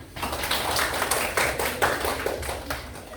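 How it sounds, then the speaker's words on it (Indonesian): A classroom group claps for about three seconds after a student presentation, a dense patter of many hands that gently fades toward the end. "terima kasih kelompok 1, tepuk tangan"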